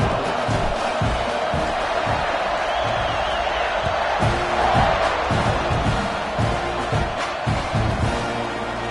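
Football stadium crowd at a Notre Dame game cheering in a dense, continuous roar, with rhythmic thumps and chants under it and a commentator's voice faintly mixed in.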